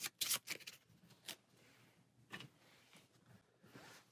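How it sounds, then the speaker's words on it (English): Marvel Champions playing cards are shuffled by hand on a table: a few quick crisp riffles and snaps in a burst at the start, then scattered softer card slides and taps. "give them a shuffle"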